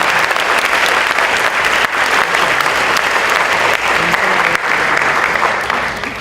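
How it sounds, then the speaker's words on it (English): Loud, sustained applause from a large conference audience, a dense wash of clapping that holds steady throughout and thins slightly at the end. "Please give a big applause."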